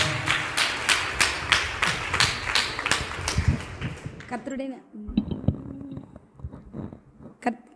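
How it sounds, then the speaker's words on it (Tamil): An audience at a church women's day debate claps in a steady rhythm for several seconds, then the clapping fades out and a voice begins speaking in Tamil. "கைத்தட்டி நம்ம வரவேற்போமா"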